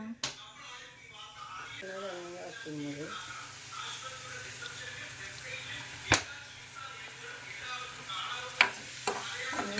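Sliced shallots fry in coconut oil on a gas stove for a dried shrimp curry. A soft, steady sizzle sits beneath brief speech, with a few sharp clicks of stirring.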